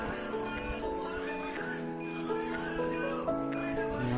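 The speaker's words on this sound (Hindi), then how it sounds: "देखिए, यह कैपेसिटर दोनों तरफ से बीप आ रहा है।" A multimeter's continuity tester beeps while probing capacitors on a dead, shorted mobile phone circuit board. Five short high-pitched beeps come at roughly regular intervals over a steady tonal background.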